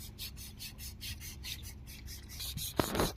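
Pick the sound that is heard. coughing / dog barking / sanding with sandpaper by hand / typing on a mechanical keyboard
sanding with sandpaper by hand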